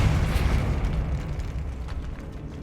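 A Depulso force spell from Hogwarts Legacy sets off a heavy blast with a deep rumbling low end that stays loud and dense for the whole moment, then slowly thins out, with no voices over it.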